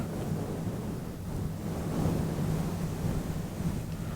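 Close, steady rubbing of a fuzzy microphone cover makes a dense rumbling rush like incoming tide, swelling slightly in the middle over a low hum, with no voices.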